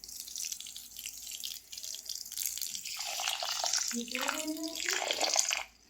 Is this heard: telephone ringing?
no